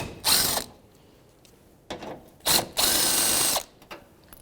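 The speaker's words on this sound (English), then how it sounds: "Now with a 10mm socket, I'm going to remove both headlight assemblies" A ratchet with a 10mm socket loosens a headlight bolt on a 2013-2018 Toyota RAV4, giving several close, sharp clicking bursts of varying length separated by brief pauses.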